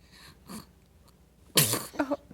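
A sneeze bursts out sharply after a couple of softer sniffly breaths, close and fairly loud, followed by a short trailing exhale.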